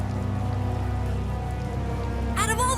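Rain in the video game Tales of Vesperia, a steady dense patter under a droning low game background hum, with a short tonal chime near the end.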